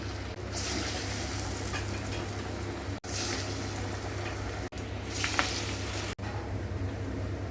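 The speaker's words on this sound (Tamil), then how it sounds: "எண்ணெய் நல்லா சூடாயிடுச்சுங்க நம்ம வடை போட்டுக்கலாம்" Vada batter fries in hot oil with a steady, even sizzle and crackle that is broken by a few brief dips as more pieces go in. The frying sounds close and continues with no talk over it.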